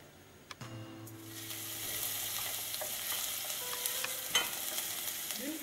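Shallot frying in olive oil, a steady bright crackling hiss that builds and holds, with a few soft clinks of a utensil.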